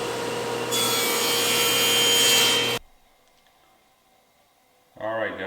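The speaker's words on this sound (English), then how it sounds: "let's try to cut a piece of 1/2 inch Baltic birch plywood" A saw blade cuts through a piece of 1/2 inch Baltic birch plywood with a loud, steady rasping roar for about three seconds. It stops abruptly into near silence, and then a voice speaks briefly.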